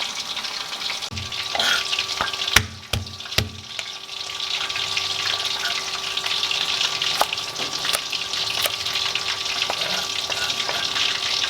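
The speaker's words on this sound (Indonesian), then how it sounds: "Sambil menunggu kita menggoreng ayamnya" Chicken pieces fry in hot oil in a home kitchen, a steady, bright sizzle and crackle that holds throughout, broken early on by a few sharp clicks and knocks of utensils.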